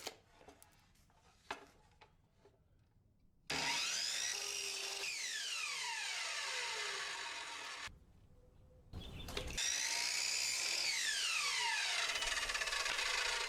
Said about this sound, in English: I cut the bottom shelf support pieces at a 45 on each side